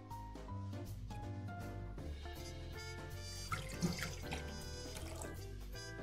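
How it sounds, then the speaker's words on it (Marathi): Water pours steadily into a pot for steaming rolled alu vadi, colocasia leaves layered with spiced besan and ajwain, quiet and continuous with a tonal, music-like background throughout. "हे असं पाणी घालायचं"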